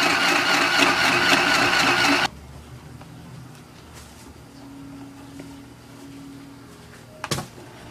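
A mini sewing machine stitching a pants hem whirs loud and steady for about two seconds, then stops, leaving quiet room noise and a brief clunk near the end.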